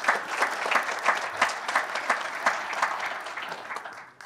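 Audience applause at a university athletics press event introducing a new head coach, a steady wash of many hands clapping across the room, fairly close and sustained, fading toward the end.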